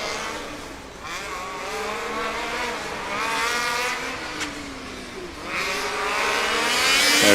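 A Formula Student race car runs an autocross course, its high-revving engine rising and falling through gear changes at a moderate distance, with bursts of acceleration and a brief tire squeal.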